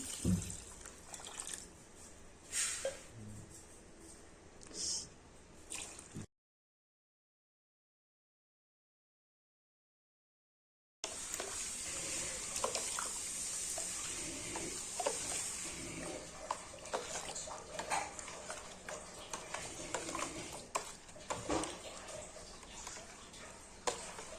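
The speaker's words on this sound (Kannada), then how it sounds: "ನೀರು ಹಾಕೊಳ್ತಾ ಇದ್ದೀನಿ." Quiet liquid sounds of water being poured into a pot, with dripping and a gap of silence partway through.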